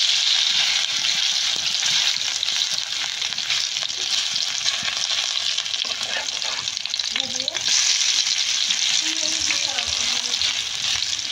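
Potato fries frying in oil over low heat, a dense, constant bubbling hiss heard close up, with a few faint scrapes and soft tonal squeaks partway through and no voices.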